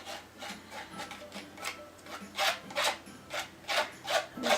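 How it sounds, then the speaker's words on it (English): An old plastic fork scrapes and stirs acrylic paint in a cup, giving a close, quiet, rhythmic rasping with about a dozen strokes at a steady pace. "So I'm using old plastic forks for now to mix everything."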